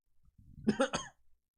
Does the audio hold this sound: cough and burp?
yes